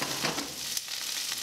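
Tempeh and garlic fry in a pan with a steady close sizzle, interrupted by brief scraping stirs.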